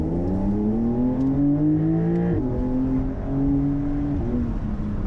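Base-engine 2022 Porsche 911 Carrera accelerating hard, its engine note climbing steadily through the revs, dipping briefly at a gear change, then pulling again, loud and close from inside the car with no talking.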